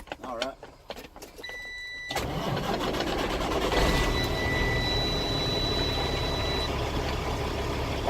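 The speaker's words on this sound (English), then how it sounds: "I go start my truck." A truck tractor's engine cranks and catches, then settles into a steady idle that runs to the end. Brief beeps and clicks come before the start.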